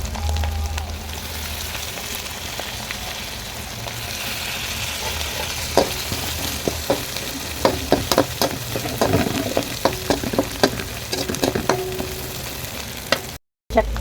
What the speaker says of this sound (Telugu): చక్కగా వేగినాయి కదా ఈ టమాటో ఇలా స్మాష్ అయినట్టు అయిపోయినాయి కదా